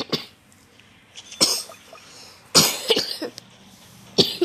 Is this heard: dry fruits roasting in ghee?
no